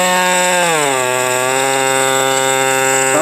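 Power tool trimming the top off a fossil crab concretion rock, a loud continuous whine that dips in pitch as the blade bites, then holds a steady strained tone, no talk.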